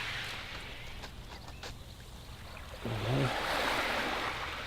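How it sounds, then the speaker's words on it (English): Gentle sea water lapping against the Corfu coast on a quiet north-east shoreline, a soft continuous wash that swells slightly louder partway through, with no voices. "You can just hear the water, and that's it."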